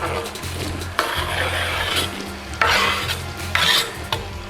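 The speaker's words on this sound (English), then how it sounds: "So put our onion in." Onion dropped into a hot pan while pre-cooking dhal, giving a bright hiss and sizzle that surges in bursts as it is stirred, with scraping and occasional utensil knocks, loud and close.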